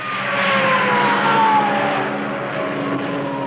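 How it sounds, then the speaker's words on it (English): A hot rod Jeep drives past fast, a loud engine roar that swells and then shifts in pitch as it goes by, steady and without talk. "Wow, look at the Jeep go."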